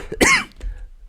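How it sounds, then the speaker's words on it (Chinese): A man with an irritating dry cough, felt in the throat, gives one short, close, harsh cough with no phlegm, followed by a faint catch of breath. "我咳嗽又没痰"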